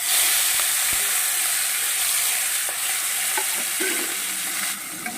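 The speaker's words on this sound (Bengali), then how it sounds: "এই পর্যায়ে আমি দিয়ে দেব চিংড়ি মাছগুলো" Prawns frying in a pan for a mixed vegetable curry give a steady, close hiss of sizzling oil, with a few faint clinks and stirring scrapes near the end and no talking.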